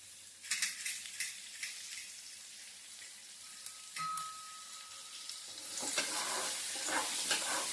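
Chopped onions with a little salt stir and soften in a pan over a low flame, a soft steady sizzle broken by scraping spatula strokes, growing into a louder hiss near the end, with no talking.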